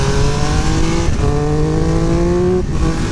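Triumph Speed Triple 1200 RR motorcycle engine revving hard through rising gear pulls as the front wheel lifts in a wheelie, a loud, close, steady engine note with brief dips between upshifts.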